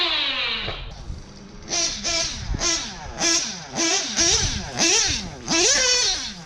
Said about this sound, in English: this Triton engine is a badass.